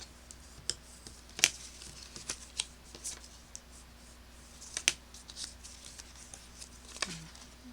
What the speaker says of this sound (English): we are just going to fold on all of our score lines